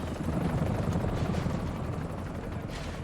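A helicopter in the Resident Evil 3 video game, its rotor chopping as a continuous, fast rhythmic thump with broad engine roar, steady and fairly close, heard alone without speech.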